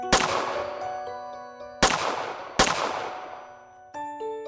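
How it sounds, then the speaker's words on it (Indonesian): Pistol gunshot sound effect: three sharp, loud reports with long ringing decays, each about a second apart, followed by a fainter metallic ring, with no talk. "ia mendengar ada suara ledakan pistol dari belakang gedung."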